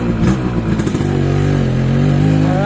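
Restored Suzuki X4 motorcycle engine running close by, a loud steady idle with clattering, a brief rev at the start, then settling into an even hum.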